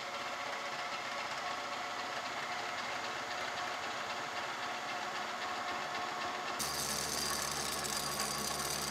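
A horizontal boring mill cuts a steel plate lubricated with cutting oil, giving a steady mechanical hum and grinding whir that runs continuously, then shifts to a louder, harsher tone near the end.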